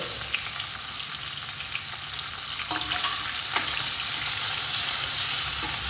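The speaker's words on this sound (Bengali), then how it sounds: "এটা এর মধ্যে অ্যাড করে দেব পেঁয়াজটা আমি দুই রকমভাবে দেবো" Chopped onion frying in hot oil for a Bengali katla fish kalia, a loud, dense, continuous sizzle with a few faint utensil clicks and scrapes.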